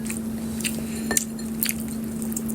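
Close-up crunchy chewing of oil-soaked dried fish with a few sharp bites and crackles over a steady low hum, no talking.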